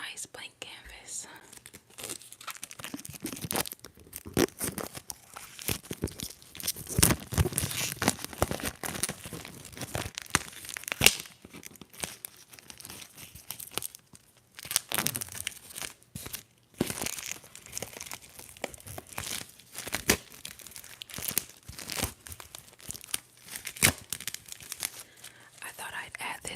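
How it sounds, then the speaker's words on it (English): Plastic wrap is peeled and crinkled off a blank art canvas, a long stretch of close, crisp crackling and tearing rustles in irregular bursts, with soft whispered talk woven in between. "And that has plastic on it, so I'm going to actually unwrap it."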